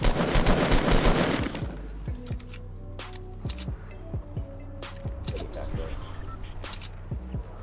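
Fortnite gunfire opens with a loud, dense automatic burst, then gives way to scattered single shots and short volleys that crack sharply through the rest, with players talking now and then.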